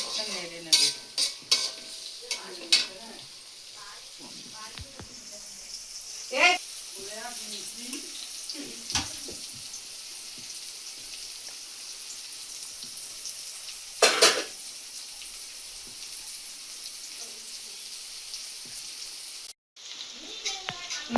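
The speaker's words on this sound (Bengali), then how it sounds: "তেল দিলাম সাদা তেল, পেঁয়াজটা নেড়ে নেব।" Chopped onion frying in white oil for a beef haleem, with a steady low sizzle throughout and scattered scraping stir strokes, plus a sharper burst of clatter midway; a voice speaks briefly at the start.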